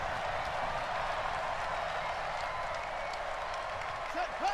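A football video game stadium crowd cheers and applauds after the defense holds on the opening drive, a steady dense roar of clapping and voices throughout, with commentary mixed underneath.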